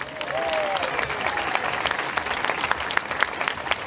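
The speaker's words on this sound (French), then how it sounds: "et je vous demande de les applaudir." Concert audience applauds a performer and troupe on stage in Bollène, a dense sustained wash of many hands clapping, fairly loud and steady throughout, with a brief voice heard near the start.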